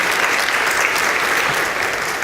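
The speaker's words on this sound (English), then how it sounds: "Can we give our speakers a round of applause one more time" Steady, dense applause from a large crowd after a presentation, sustained throughout without letup.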